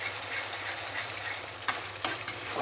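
Spices with yogurt and sugar are stirred in a frying pan for jackfruit biryani: a low, steady sizzle, with three sharp utensil scrapes against the pan near the end.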